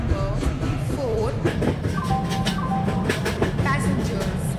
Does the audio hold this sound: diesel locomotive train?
yes